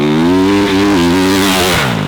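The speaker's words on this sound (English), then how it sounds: "If you're letting the bike rev out too hard" A dirt bike engine revs hard at high RPM, a loud, close, steady buzzing drone with slight wavering in pitch that cuts off abruptly at the end.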